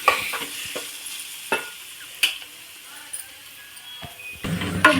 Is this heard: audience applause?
no